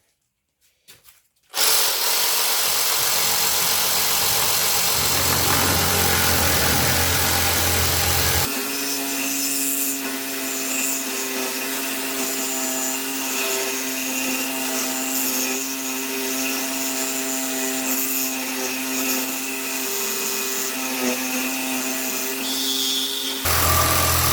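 A Parkside PSSSA 20-Li A1 cordless sabre saw cuts through a thick screw about one centimetre across. Its loud, steady motor whine shifts into a harsher, ringing metal-cutting tone partway through, runs continuously for over twenty seconds, then stops abruptly.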